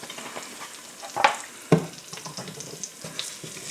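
Olive oil sizzles and crackles steadily in a pot on a low burner for Southern smothered chicken, with a couple of sharper clatters from stirring or utensils over the hiss.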